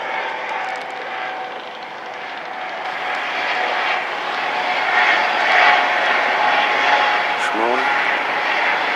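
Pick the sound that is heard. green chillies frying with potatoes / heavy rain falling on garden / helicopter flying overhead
helicopter flying overhead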